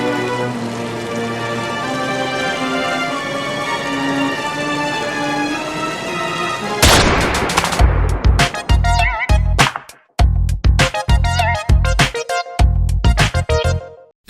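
Gunfire in a murder-mystery film scene, a gun entering a house: after a sustained musical passage, a burst of loud, sharp broadband cracks hits in rapid irregular volleys, with a short gap before more shots follow.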